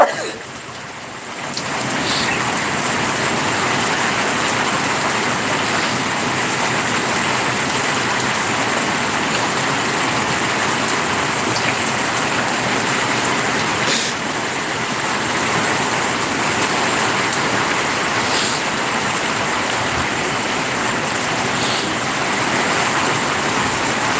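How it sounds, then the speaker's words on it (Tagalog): Heavy typhoon rain pours down onto a flooded home terrace during a storm, a loud, steady, unbroken downpour that fills the whole stretch after a brief quieter start, with no talking. "Baha na rin po guys dito sa aming terrace."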